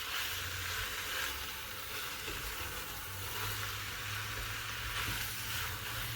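Pork sizzles and fries in a pan for Filipino dinuguan, a steady, close hiss of hot oil that stays constant throughout with no talking.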